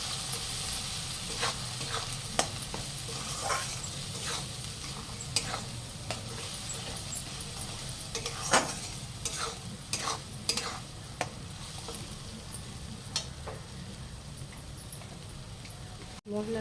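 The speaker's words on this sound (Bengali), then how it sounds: "এবারে মশলাটা ভালো করে কষিয়ে নেব।" Ground spices with turmeric and chili powder frying in a pan for a chicken dish, a steady soft sizzle broken by repeated clinks and scrapes of a spoon stirring, with a voice talking quietly throughout.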